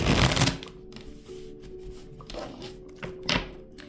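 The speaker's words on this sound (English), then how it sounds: "Shuffling again, so bear with me." Tarot cards are shuffled by hand close up, a burst of riffling followed by several softer slides and taps of the deck.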